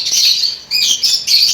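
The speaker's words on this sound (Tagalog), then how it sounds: "So, ito yung mga ibon na dala-dala ko kanina." Lovebirds in a colony-style alloy cage give shrill, high chirps and squawks in three quick bursts, close and loud with brief gaps between.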